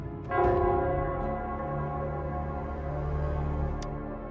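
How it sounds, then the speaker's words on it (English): A deep bell in the video game Wuthering Waves, the Nell Square bell, strikes once loudly and then hums with a long, full resonant decay that fills the rest of the moment, with no talk. "it's the Nell Squares bell"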